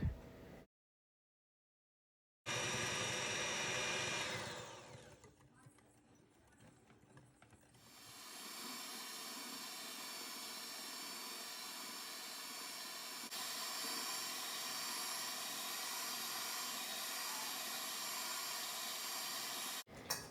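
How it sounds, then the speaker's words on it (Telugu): A hand blender whisks dalgona coffee with a continuous whirring drone. The sound starts after a brief silence, changes tone partway through as the speed shifts, then holds a steady, even hum to the end. "నాకు ఈ హ్యాండ్ బ్లెండర్ తోటి 20 మినిట్స్ దాకా పట్టింది."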